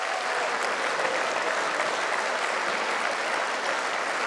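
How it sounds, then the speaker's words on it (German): A crowd claps at a political party speech in Germany, a sustained, even wash of applause from many hands that holds at steady volume from start to finish, with no speech on top. "Und da dürfen auch die Kölnerinnen und Kölner klatschen"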